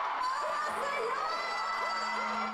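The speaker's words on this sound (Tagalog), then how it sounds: "Napuno ng hiyawan ang sold out at first ever fan meeting sa bansa ni South Korean actress Kim Ji-won." Sold-out crowd at South Korean actress Kim Ji-won's first fan meeting in the Philippines, screaming and cheering loudly and continuously throughout, with high shrieks and whoops layered over a dense roar.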